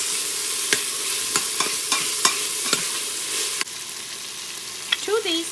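Dal tadka sautéing in an Instant Pot with chopped tomatoes, a steady close sizzle broken by about eight sharp spoon scrapes and clacks against the inner pot, with no voices.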